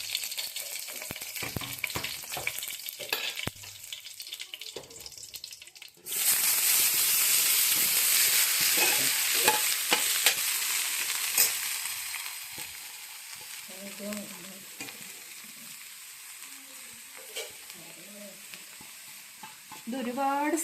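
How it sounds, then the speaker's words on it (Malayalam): Mustard seeds, curry leaves and spinach leaves hit a hot pan, bursting into a loud, steady sizzle that gradually fades, with stirring and scraping over it, after quieter clatter at the start. "നന്നായിട്ട് ചൂടായപ്പോൾ നമ്മൾ കുറച്ച് കടുകും കറിവേപ്പിലയും കൂടി ഇട്ട് നമുക്ക് ചീരയില ഇട്ട് കൊടുക്കാം."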